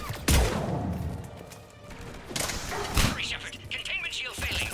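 Game gunfire from a Mass Effect 3 sniper firefight, with sharp shots around the start and middle breaking through busy combat noise, while a voice talks over the action.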